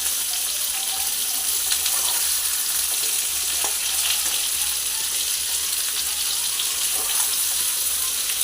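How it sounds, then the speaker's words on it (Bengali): Potatoes sizzle loudly and steadily in a hot pan, a continuous close-up frying hiss with faint stirring and no pauses. "এখানে আলুটা একটু ভাজা ভাজা হয়ে এসছে। এরপর আমি এখানে দিয়ে দেব কেটে রাখা পেঁয়াজগুলো।"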